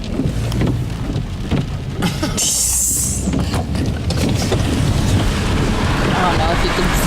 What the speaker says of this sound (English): It's raining. But you can hear it.